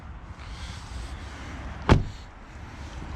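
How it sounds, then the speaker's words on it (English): A door on a 2010 Nissan Armada SUV gives a single sharp, close clunk midway through, standing out briefly over a steady background hiss. "So yeah, open the doors again here."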